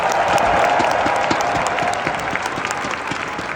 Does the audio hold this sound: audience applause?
yes